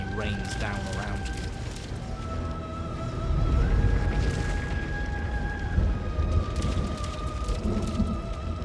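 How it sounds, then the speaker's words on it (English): Debris rains down after a cabin explodes in the game Slay the Princess. A rumbling patter like heavy rain and falling fragments swells midway and continues under sustained musical tones. "You're flung backwards, violently slamming into a tree as debris rains down around you."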